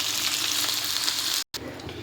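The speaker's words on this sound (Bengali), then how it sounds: "এর মধ্যে টমেটোগুলো এবার একটু দিয়ে দেবো, এটাও ভাজা হয়ে যাবে" Chopped tomatoes fry in a pan with onions, giving a steady close sizzle that cuts out briefly and then resumes.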